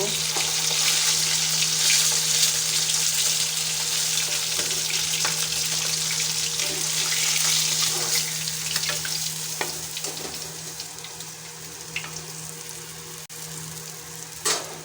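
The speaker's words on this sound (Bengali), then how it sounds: "বাকি মাছগুলো একইভাবে ভেজে নেব" Bhola fish fry in hot oil in a kadai, a steady crackling sizzle running throughout with scattered pops, close and fairly loud, no voices.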